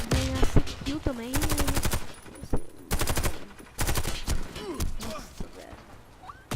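Sniper rifle fire in the online shooter Warface: rapid bursts of loud game gunfire cracking in quick succession, with a voice talking and exclaiming over the shots.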